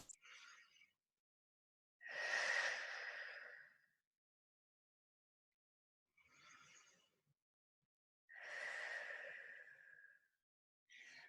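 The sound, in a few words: deep breathing during exercise class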